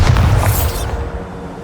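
A Bombarda spell from Hogwarts Legacy detonates in one heavy, booming blast with a bright crack at the start, then a rumbling tail that fades over about a second.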